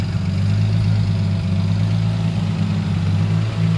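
An imported right-hand-drive Fox body car engine runs at a steady idle, a loud, deep, rumbling drone held close and constant with no talking.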